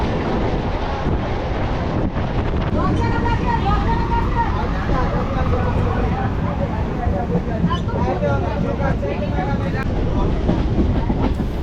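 A Sealdah–Namkhana local train pulls into Lakshmikantapur station with a steady, close rumble and rattling carriages, while voices chatter throughout.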